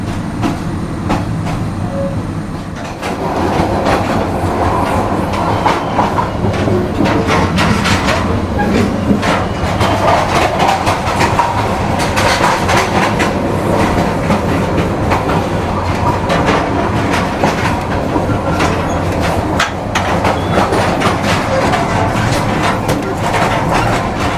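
The Mohanagar Express runs from Dhaka to Chattogram on a rainy night, heard from inside the carriage as a loud, steady rumble with rhythmic clickety-clack of wheels over rail joints after a quieter start.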